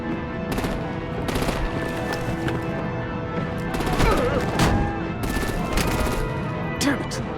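Heavy gunfire and artillery in Batman: The Enemy Within, loud machine-gun bursts and repeated shots in close clusters over a continuous rumbling battle din, with voices talking intermittently underneath.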